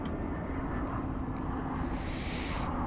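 A jet airplane taking off at DFW Airport, heard as a steady, fairly faint broadband engine roar from a distance, with a low hum underneath and no voices.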